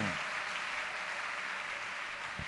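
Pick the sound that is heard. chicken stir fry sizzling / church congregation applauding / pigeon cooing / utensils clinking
church congregation applauding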